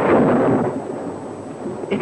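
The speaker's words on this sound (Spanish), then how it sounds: "A cada momento la tormenta parecía cobrar más fuerza." A thunderstorm at sea gives a loud, broad rumble of thunder that rolls and slowly fades, backed by wind and rain noise, with a brief renewed swell near the end.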